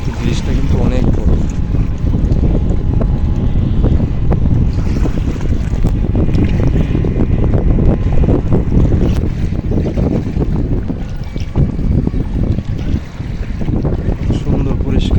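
Cool wind over the Meghna river roars in loud, continuous buffeting gusts against the microphone, with a low rumble of moving water and boat engines beneath.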